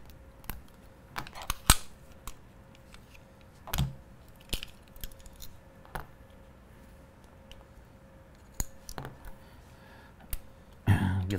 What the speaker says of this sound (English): First off, we're going to take the top end off the gun.